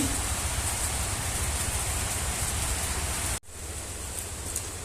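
Heavy rain pours steadily outside as a dense, unbroken hiss, loud and continuous with a brief dip near the end before the downpour resumes.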